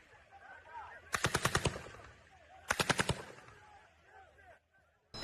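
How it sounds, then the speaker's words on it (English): Two loud bursts of rapid machine-gun fire at a Gaza aid distribution site, each a tight volley of about six to eight shots, separated by a pause over a dim background murmur. "they could identify live ammunition, including machine gunfire, coming from the sites"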